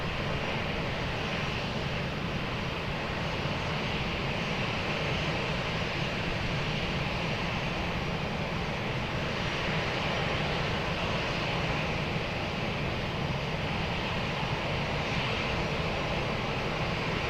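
An aircraft on approach to runway 20 at Lisbon Airport drones on as a steady, continuous engine roar at an even level from start to finish, with no talk over it.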